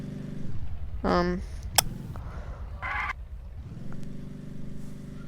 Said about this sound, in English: let me get into a car that can drive in here